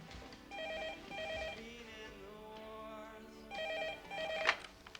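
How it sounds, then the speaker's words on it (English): An old landline telephone rings in short double bursts, two pairs near the start and two more near the end, loud and close with a room hum between the rings. "The phone's ringing."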